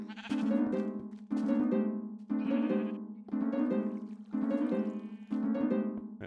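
Blocky electronic video game note block chords repeat in an even pulse, six loud tones each held briefly before the next, playing alone without any voices.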